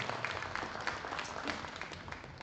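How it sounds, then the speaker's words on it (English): Faint, distant audience applause at a Spring Fling 2024 show, a dense patter of clapping held steady at low level throughout. "Let's go ahead and give these 4 exhibitors a round of applause"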